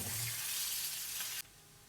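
Fried idli pieces sizzle steadily in a hot pan with coriander and ghee as they are stirred, a loud continuous frying hiss that drops abruptly to a quieter sizzle near the end; no voices.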